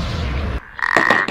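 A frog croaks twice in quick succession, loud and close, after a rumbling background cuts to near silence.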